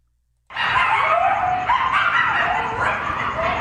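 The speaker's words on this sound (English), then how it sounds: "It's the howl of coyotes who have set up residence in this abandoned construction project in West Hollywood." Coyotes at an abandoned construction site in West Hollywood let out a loud, continuous chorus of overlapping yips, whines and wavering howls, several animals calling at once.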